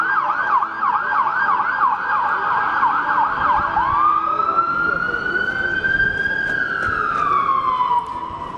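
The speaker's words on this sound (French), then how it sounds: "Lorsque Philippe Alex arrive en ambulance à l'hôpital, il est dans un état critique." An ambulance siren wails nearby, first in a fast repeating yelp, then shifting into a slow rising and falling wail that carries to the end over faint background noise.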